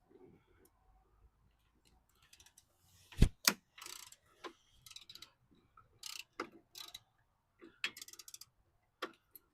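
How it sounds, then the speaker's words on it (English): Ratchet wrench clicking on bolts while fitting new throttle cables to a 2006 Harley-Davidson Ultra Classic motorcycle, heard as short bursts of close ratcheting clicks separated by pauses, one louder sharp impact near the start. "Get the ratchet on that one, boy."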